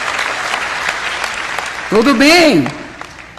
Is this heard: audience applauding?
yes